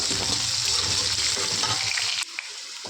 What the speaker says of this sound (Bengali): এখন দিয়ে দেবো আমি আলুটা আমি ভালো করে ভেজে নেব।